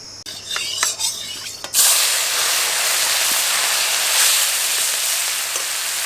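Prawns hit hot oil in a pan for a Bengali meal: a few soft kitchen clicks, then a sudden loud sizzling hiss bursts up and holds steady to the end, with no one talking.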